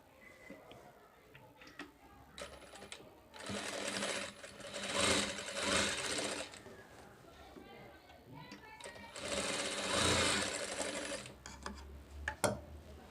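A sewing machine stitches tucks on the front of a blouse in rapid, rhythmic bursts that swell and pause. Someone talks over the machine throughout.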